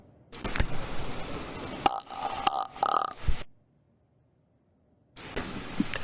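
A woman burps loudly into a gaming microphone during a Counter-Strike match, giving several long, rough belches close to the mic, then a pause before another burst.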